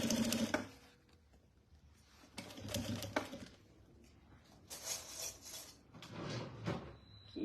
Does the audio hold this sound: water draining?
no